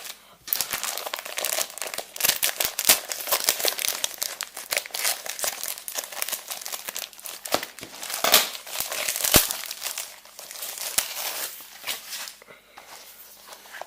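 Packaging being crumpled and torn open on a Topps Star Wars The Last Jedi starter kit album, a steady close crinkling and rustling that runs the whole time with sharper crackles.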